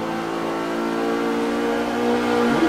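A race car engine in the Forza 5 video game, revving hard at the top end: a steady, loud, buzzing mechanical drone that holds high revs throughout, close and continuous with no talking.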